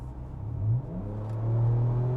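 A 2025 Ford Ranger Raptor engine revs with its exhaust valves opened, a loud mid-pitched roar rising in a quick blip, dipping, then climbing and holding near the microphone.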